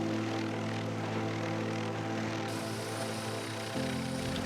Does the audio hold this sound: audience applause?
no